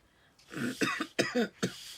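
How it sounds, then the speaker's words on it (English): A cluster of harsh coughs, close and fairly loud, coming in three or four quick bursts with brief pauses between them. "I don't know what's going on with this cough."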